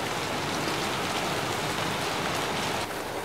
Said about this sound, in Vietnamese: Tự nhiên trời đang nắng chang chang mà mưa xuống một cái.